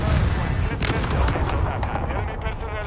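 In a military video game, an artillery fire mission lands as a dense, rumbling barrage of booming impacts and blasts, loud and continuous, with a faint voice underneath.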